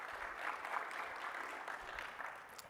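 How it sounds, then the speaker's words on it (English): Audience applause for speakers at a DASH 2023 conference breakout session, a steady, fairly soft patter of clapping from a moderate-sized room lasting a few seconds with no talk over it. "So please, a big round of applause to Tay and Mitch."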